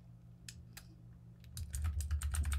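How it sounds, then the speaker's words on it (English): Typing on a computer keyboard, close and fairly quiet: a few scattered keystrokes at first, then a fast, dense run of clicking over a low steady hum. "I'm sorry that you guys hear me typing"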